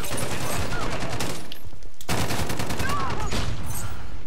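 Loud, rapid automatic gunfire from an R97 in Call of Duty: Modern Warfare, dense sustained bursts with a brief pause partway through.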